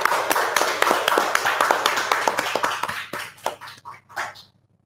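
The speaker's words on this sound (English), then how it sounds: "A round of applause again for the People's Choice Award." Audience applause at an aquascaping awards ceremony: brisk, dense clapping that gradually thins to a few scattered claps before stopping.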